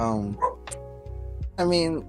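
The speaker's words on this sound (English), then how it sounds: "I'm sorry if you hear a dog barking." A dog barks a few times in the background while someone talks close by, the barks short and sharp between and under his speech.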